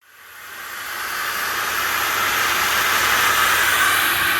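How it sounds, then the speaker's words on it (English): Water from a hose sprays steadily onto house gutters, a broad continuous hiss that builds over the first second and then holds loud and unbroken with no voices. "I'm just going to give this a hose down"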